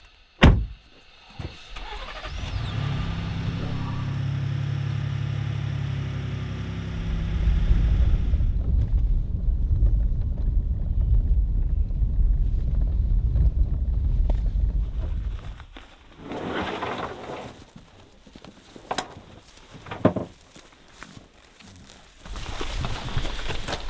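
Pickup truck idling while warming up on a cold morning before an elk hunt in New Mexico, a steady low engine rumble with wind buffeting the microphone and some thumps and shifting noise later on.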